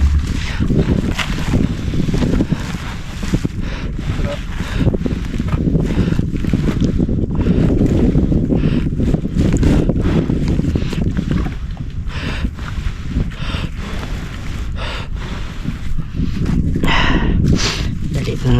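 Strong wind at sea buffets the microphone with a constant low roar and gusty rumbling throughout, with possible voices mixed into the noise.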